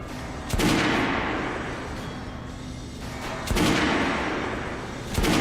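Gunfire booms through a dense, noisy firefight in Metro Last Light, with sharp shots punctuating a steady roar of battle.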